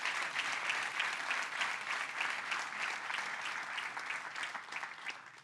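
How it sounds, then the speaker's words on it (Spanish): A church congregation applauding, heard faint and from a distance: sustained, dense clapping from many people with a slightly pulsing rhythm, lasting several seconds before tapering off. "Un fuerte aplauso."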